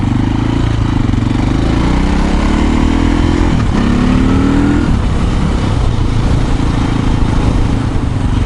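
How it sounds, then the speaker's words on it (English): An SWM RS650R motorcycle accelerates on an open road, its loud close engine note climbing through the gears with a shift break, then settling into a steady roar under heavy wind rush. "I'm just going to try and take it up to speed here a bit"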